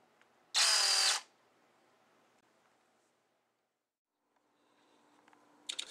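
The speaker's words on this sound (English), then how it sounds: "This will sand this area down real fast and smooth" A power sander smooths the tip of a 1/7 scale F-4E turbine twin EDF model jet in a short loud burst of about half a second, then near silence, with another brief whir starting at the very end.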